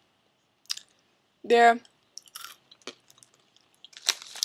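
Crunchy popped corn kernel snacks being chewed up close, a few sharp crunches and softer bites spread over several seconds, with a short spoken word just before.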